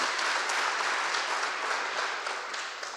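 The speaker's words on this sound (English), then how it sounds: "So if we can give him a round of applause," Audience applause at a memorial ceremony for fallen heroes in Monterey County: a dense, even wash of many hands clapping, sustained throughout and slightly distant.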